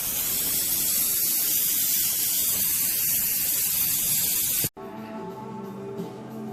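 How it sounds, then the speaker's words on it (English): Gas torch flame melting old gold, a loud steady roaring hiss for about four and a half seconds that cuts off sharply, followed by quiet clicks and faint handling sounds. "So that when I get the flame into here now, it's not going to blow about everywhere."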